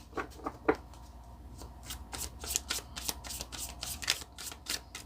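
A deck of Gilded Tarot cards being shuffled by hand, with a run of crisp riffling bursts and soft papery flutters, close and fairly quiet with no voices.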